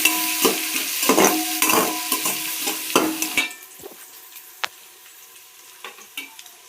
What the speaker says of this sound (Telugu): ఆనియన్స్ వేసుకుందాం. ఇవి బ్రౌన్ కలర్ వచ్చే వరకు వేసుకుందాం